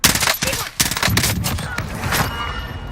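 Rapid gunfire in Call of Duty Cold War Warzone, with dense overlapping bursts of shots from an M16 and other weapons filling the whole stretch at close range, loud and sustained.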